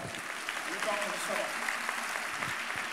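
A church congregation applauding during a sermon: a continuous wash of clapping from many hands, at moderate distance, with voices mixed in the crowd noise.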